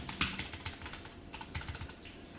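Soft, quick keystrokes tap on a computer keyboard in a quiet room, a short irregular burst of clicks heard close up with no talking.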